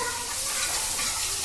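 Macaroni tempered with tadka sizzles in a hot pan as it is stirred, giving a steady bright hiss that stays close and even.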